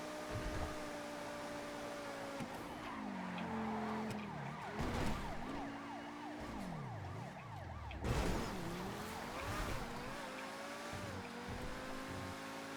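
Police car sirens in the video game GTA V, wailing and yelping continuously over a rumbling engine and traffic noise, fairly close and steady throughout.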